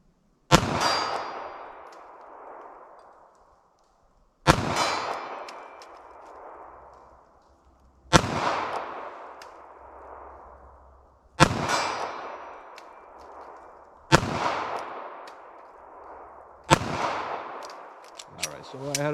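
A .32 ACP pocket pistol fires six shots at steel targets, each a sharp, loud crack followed by a ringing metallic clang that decays over a few seconds, spaced about three seconds apart.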